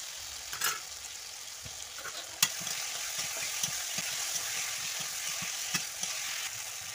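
Spiced masala-fried potatoes going into cooking oil for a simple rohu fish curry, a continuous soft sizzle broken by a few sharp clacks of stirring, no voices.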